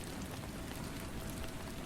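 Steady rain falls on the windows of an old building, a dense, even patter that holds at the same level throughout with no voices.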